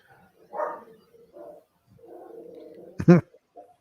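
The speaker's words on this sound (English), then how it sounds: "there must be a dog outside" A dog outside gives a single sharp, loud bark near the end, after some quiet speech.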